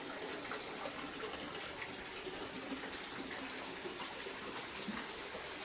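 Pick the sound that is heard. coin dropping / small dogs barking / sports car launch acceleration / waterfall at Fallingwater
waterfall at Fallingwater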